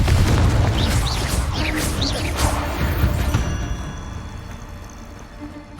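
Fiery Confringo spell blasts in Hogwarts Legacy, a loud close burst with crackling, whooshing impacts that fade into lingering rumble and debris over several seconds.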